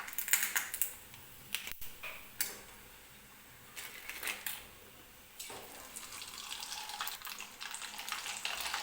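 Sabudana and potato bhatvadi fritters, some tinted with food colouring, fry in hot oil with a steady, close, hissing sizzle broken by brief crackling bursts.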